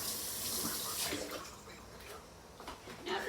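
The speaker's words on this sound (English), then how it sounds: "I'm going to give my cutting board a quick rinse" Tap water runs steadily over a plastic cutting board during a kitchen rinse, a broad hiss of splashing water continuing throughout at moderate, fairly even loudness with no talk.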